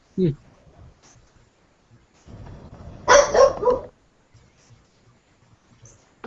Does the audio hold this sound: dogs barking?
yes